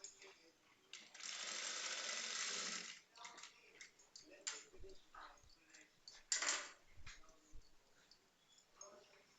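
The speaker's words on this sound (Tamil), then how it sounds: "இந்த தையல் மேலேயே கொண்டு வந்து இப்படி லெஃப்ட் சைடு பீஸை வந்து இப்படி வச்சு அடிச்சிடணும்" A sewing machine stitches a blouse hook strip in close, rapid whirring bursts, one long and one shorter, with quiet speech and fabric handling between them.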